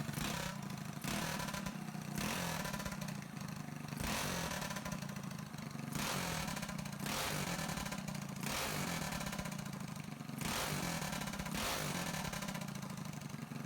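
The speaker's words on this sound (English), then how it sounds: "you want your engine idling as low as possible" A small Predator 212 gasoline engine with a Mikuni VM22 clone carburetor idles with a steady chugging drone, its pitch dipping and rising in uneven surges, close and continuous.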